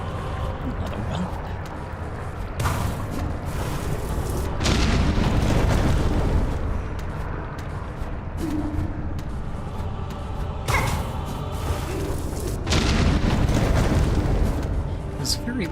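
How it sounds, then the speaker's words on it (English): Booming explosions in Hollow Knight: Silksong, several heavy blasts swelling around 3, 5–7 and 11–14 seconds over a continuous rumbling game soundscape, loud and close. "very worried I was too close to that explosion"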